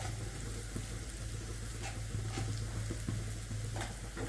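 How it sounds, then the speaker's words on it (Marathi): Spice masala with salt stir-fried in a pan for a garlic fenugreek dish, a soft steady sizzle with light spatula scrapes and taps, fairly quiet, with a low background hum and no speech. "आता हे परत मीठ टाकून मी याला परतून घेते"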